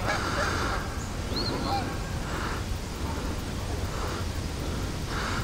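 Geese honk in short repeated calls at a park lake in Louisville's Waverly Park, a few bursts spaced across the scene over a constant background hiss, with a voice talking nearby.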